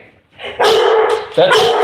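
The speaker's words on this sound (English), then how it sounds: "That dog does not care about you." Dog barking and yipping close by indoors, a short bark followed by a whimpering yelp, loud and alone with no talk over it.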